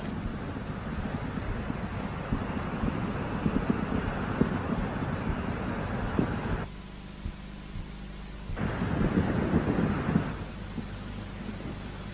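Space Shuttle Discovery's rocket engines roaring in powered flight on the STS-105 launch, a continuous broadband rumble that cuts out abruptly for about two seconds then returns before easing off.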